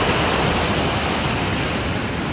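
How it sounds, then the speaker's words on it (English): Waterfall at the Delaware Water Gap roaring in a steady, loud, unbroken rush of falling water with no voices over it. "Just beautiful the way this water comes into here."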